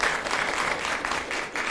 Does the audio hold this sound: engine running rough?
no